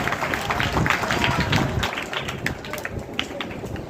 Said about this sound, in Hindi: बिरादरी के इन जिम्मेदारों के लिए भी जोरदार ताली बजाइए